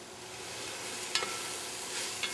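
Mushrooms with salt and garlic frying in a pan, a soft steady sizzle with a couple of faint stirring scrapes, no talking.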